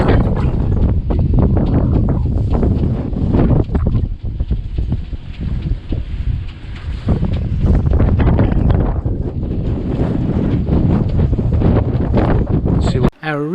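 Strong wind roars across a sailboat at sea as it suddenly rises to 16 knots, a loud, steady rush with heavy buffeting on the microphone through the whole stretch.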